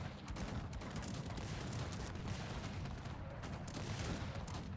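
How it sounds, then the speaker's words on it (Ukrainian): Dense, continuous battlefield barrage from the Cossacks 3 strategy game, with overlapping artillery booms and gunfire volleys rumbling steadily at high volume throughout, no pauses and no speech. "арта його так навалює жорстко"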